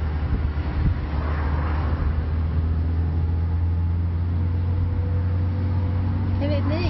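A car driven during a driving test hums along with a steady low engine drone and interior rumble, and people talk inside over the continuous noise.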